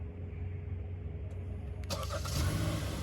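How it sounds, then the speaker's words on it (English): A 2023 Kia Sportage X-Pro Prestige AWD engine starts by remote start, a quiet idle followed by a sudden crank and catch, settling into a close steady rumble. "Now, this Kia also comes with remote start."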